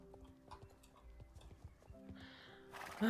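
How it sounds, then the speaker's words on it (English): Horse hooves clip-clopping in the video game Star Stable, a steady rhythmic trot of soft thuds over game music tones, ending in a louder burst of noise. "Oh, this horse is really slow."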